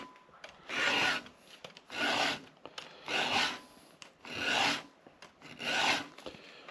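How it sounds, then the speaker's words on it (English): A file rasping across chainsaw cutter teeth and depth gauges with a 2-in-1 filing guide, five even, close back-and-forth strokes with short pauses between them. "I always file the drags down on it as I'm sharpening it"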